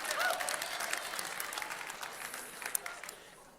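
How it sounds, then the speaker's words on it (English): An audience of high school students gives a round of applause, moderately faint and fading gradually, with voices mixed in under the clapping. "You should applaud."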